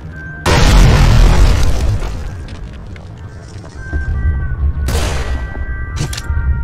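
A grenade explosion sounds as a loud, heavy boom with a long rumbling tail, followed by a second smaller blast and debris-like crackle a few seconds later.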